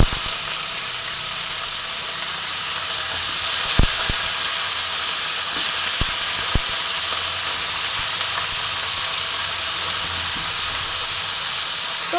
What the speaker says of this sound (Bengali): ফোড়নটা আমি ভালো মতন ভেজে নেব